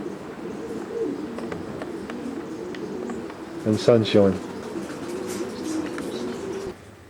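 Pigeons in a stud loft's outdoor flight coo in a short burst of low, throaty calls, close by, beneath a steady wash of outdoor ambience while someone talks over much of it.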